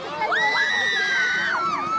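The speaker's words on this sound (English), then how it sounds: "And look at the crowd with their cheers." A football stadium crowd at a Bhutan Premier League match between Thimphu FC and Transport United lets out a loud, sustained cheer, with a shrill whistle-like tone rising and holding over the roar.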